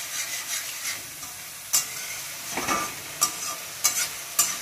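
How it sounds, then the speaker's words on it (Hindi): Masala for tangy-sweet imli chhole roasting in a pan, a soft steady sizzle under occasional sharp scrapes and clinks of a stirring spoon, close and fairly quiet, no talking. "और इस मसाले को तकरीबन 5 से 10 मिनट के लिए अच्छे से भून लेंगे,"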